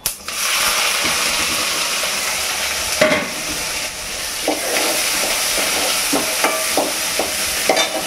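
Onions frying in a hot pan, a loud steady sizzle throughout, with scattered scraping clinks as a spoon stirs them, close and alone without talk.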